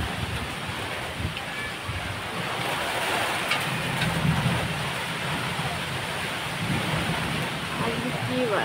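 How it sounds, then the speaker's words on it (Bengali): Rain falls during a dark thunderstorm with strong wind, making a steady broadband hiss with low rumbling beneath it that runs throughout the stretch. "আর বৃষ্টিও পড়ছে"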